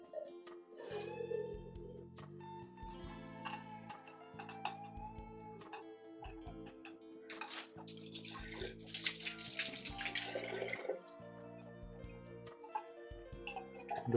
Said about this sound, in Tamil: பழைய தண்ணியை கீழே ஊற்றி விட்டுருவோம்